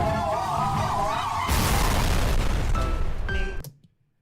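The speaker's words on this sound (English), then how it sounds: "What, the explosion?" A sudden loud burst of explosion-like noise erupts partway through, continuing as a dense roar for about two seconds before cutting off, preceded by a steady tonal sound.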